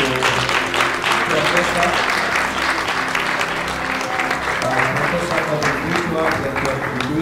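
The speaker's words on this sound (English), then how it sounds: "let's give a round of applause to" An indoor audience at an award ceremony applauds loudly and continuously, with thick clapping and a speaker's voice briefly heard over it.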